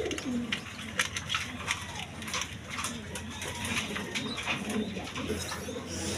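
Giribaz pigeons coo softly in repeated low murmurs, close and fairly faint, with light background noise.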